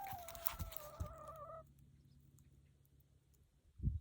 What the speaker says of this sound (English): there's a chicken sitting right next to me